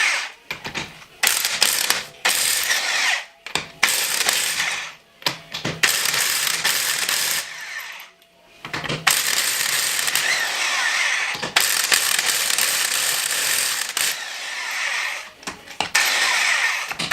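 Ratchet wrench clicking in repeated bursts while loosening the front wheels of a car being fitted with stance coilovers, loud and close, broken by short pauses.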